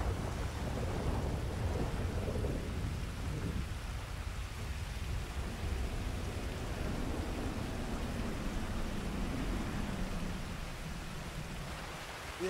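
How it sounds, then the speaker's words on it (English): Rain and rolling thunder in the Grand Theft Auto 5 video game, a steady wash of downpour under a long low rumble that swells and fades across several seconds. "Oh, lightning and thunder."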